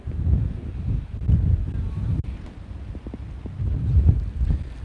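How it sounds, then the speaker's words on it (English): Strong wind buffeting the microphone with a loud low rumble that surges and eases continuously, no voices. "It hasn't been this windy out here in a while"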